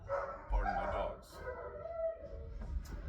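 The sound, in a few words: dogs barking and howling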